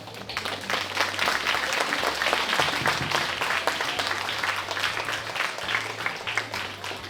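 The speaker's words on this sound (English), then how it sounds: "Shall we all give a round of applause?" Audience at a school silver jubilee celebration clapping for a dedicated jubilee stone, sustained crisp applause at moderate level over a low steady hum, with faint speech in the background.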